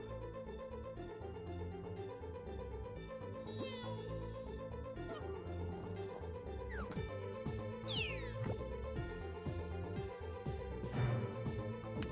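A cat meows during a game session, with several short rising cries over steady background hum and light clinking, moderately close.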